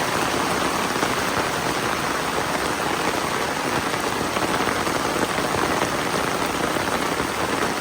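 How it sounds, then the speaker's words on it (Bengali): Steady rain pours down, a dense continuous hiss of drops hitting surfaces, even and unbroken throughout. "মন ভরে গেল বৃষ্টি দেখে।"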